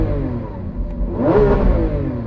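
A Lamborghini Aventador Ultimate engine idles with a deep rumble, then a single sharp rev swells loudly and settles back down, heard close and alone.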